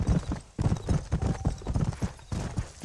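Horse hooves clip-clop at a quick gallop in the Western video game Red Dead Redemption, a steady rapid pounding close up and loud, with a rider's brief urging voice at moments.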